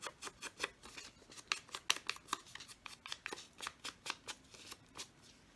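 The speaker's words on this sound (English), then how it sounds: "So I'm going to just distress the edges a tiny bit" Paper card edges being distressed by hand, a series of crisp rapid scraping rasps in quick irregular bursts, close and fairly quiet with no talking.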